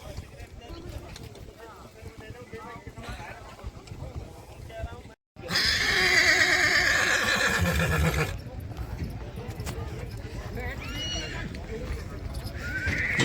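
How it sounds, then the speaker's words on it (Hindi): Horses at a Vekriya horse race in Kutch, Gujarat, with clip-clopping hooves and repeated loud neighing and whinnying, heard close by under excited voices and crowd chatter. "देखिए और भी घोड़े आ रहे हैं"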